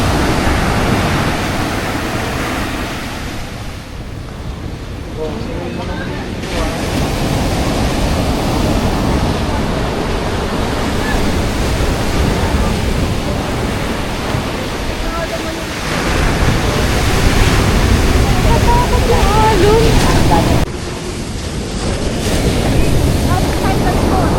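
Loud, continuous roar of very high surf pounding the shore during a typhoon at Puerto Galera, mixed with strong wind buffeting the microphone, rising and falling in heavy surges with no pause throughout.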